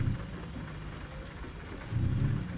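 Steady rain pours inside the truck cab of American Truck Simulator, a dense constant hiss with a low rumbling undertone, swelling slightly louder toward the end, with no voices.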